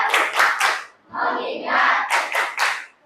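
A class of children claps in a classroom clapping game, fast bursts of rhythmic claps in groups of three, a longer patter of clapping, then more quick triplets.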